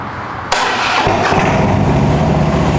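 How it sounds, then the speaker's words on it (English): A Harley-Davidson Road King FLHR motorcycle with slip-on exhausts cranks briefly and fires right up, settling into a loud, close, rumbling idle, with no talking. "Starts right up, no hesitations."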